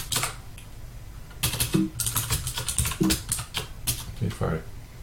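Rapid clicking of keys on a computer keyboard in bursts, close and fairly loud, with short pauses between runs of typing.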